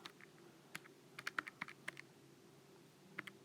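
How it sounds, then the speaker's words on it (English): Calculator keys being pressed give a handful of soft, close clicks in short uneven clusters, faint against a quiet room hum with no talking. "Type in pi over 180 in the calculator."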